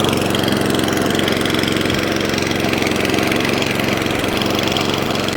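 Atco rear-roller lawn mower engine running steadily up close after repair, a loud, continuous mid-pitched drone with an even rhythmic pulse and no talking.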